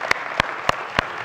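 Four sharp, evenly spaced claps ring out in a church, quick and distinct against a quiet room.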